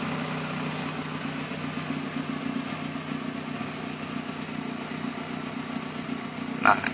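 A car engine idles while warming up, a steady low mechanical hum with even throb close by the exhaust, unchanged throughout, with a brief knock near the end.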